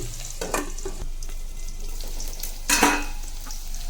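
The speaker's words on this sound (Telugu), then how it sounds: "ఇప్పుడు దొండకాయలు వేసేస్తున్నాను. కలుపుకుంటాము." Ivy gourd sizzling in oil in a pan as it is stirred, a steady soft fry with a few scraping strokes of a spatula, one louder near the end, no talk.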